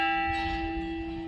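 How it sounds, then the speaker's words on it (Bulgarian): A Bulgarian bell is struck once and rings on with rich, sustained overtones that slowly fade, loud and heard alone. "Българска камбан"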